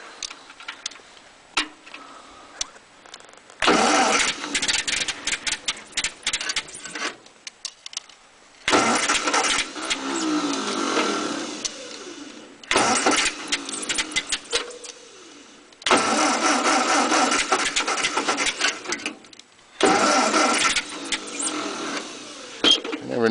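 A 1948 Ford 8N tractor is cold-started in repeated attempts: several bursts of loud, rapid starter cranking and chugging, separated by quiet pauses, with people talking in between.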